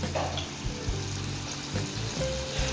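Spice paste sizzling and frying in a pan for egg masala, a continuous close crackle with light stirring bumps.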